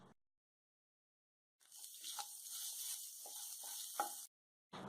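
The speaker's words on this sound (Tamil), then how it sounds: "தேங்காவை நல்லா பொன்னிறமா வறுத்தாச்சுங்க." Grated coconut and dried chillies roast in a hot pan with a close, soft sizzle and light stirring that runs for a few seconds between short silent gaps, with no voices.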